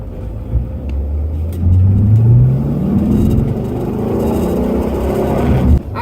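A 1963 split-window Corvette Stingray being driven near Atlanta, its engine droning loud and close, revving up with a rising pitch sweep, steady cruising, then a sharp cutoff near the end, with no speech.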